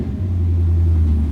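An Ultima RS with a 6.2 litre V8 engine gives a brief blip, a deep, loud, close rumble that swells and holds for just over a second, with no talking.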